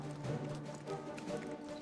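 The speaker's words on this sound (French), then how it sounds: "Mon cheval, il a galopé dans le vide." A horse gallops in a video game, a rapid, steady patter of hoofbeats at moderate distance over a droning musical background, without speech.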